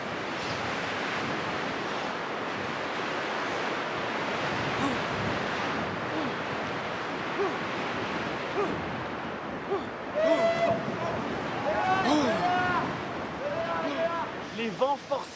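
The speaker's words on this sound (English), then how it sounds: "The wind is gusting up to 120 kilometers an hour" Strong wind gusting up to 120 kilometers an hour outdoors in a storm that is uprooting trees, a steady broadband roar that swells and surges in loudness throughout, with occasional higher whistling or creaking tones in the later part.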